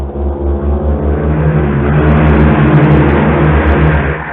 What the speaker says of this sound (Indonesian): Jadi saya operasikan, cuman ke bagian geseknya, gesek kayu rawa, kayu keras-keras semua itu.